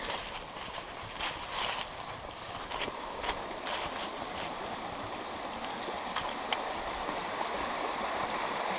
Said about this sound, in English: Caney Creek to the right of us down there.